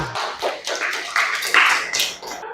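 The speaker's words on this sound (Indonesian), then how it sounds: "Tepuk tangan semuanya." A class of students in an Islamic religious studies lesson claps together in a busy, uneven burst of applause lasting a couple of seconds, with voices mixed in.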